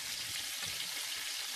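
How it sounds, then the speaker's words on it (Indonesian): Satay sizzles in a hot pan in a home kitchen, a steady, soft crackling fry heard close and alone without any talk. "Pokoknya ini satenya di goreng itu sebentar timbal balik ya"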